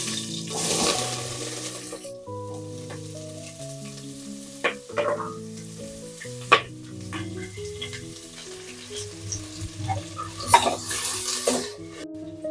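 Onions go into a hot pan of spiced oil for mutton curry, sizzling and frying amid clinks of utensils, stirring and a brief splash of water, with loud bursts near the start and end.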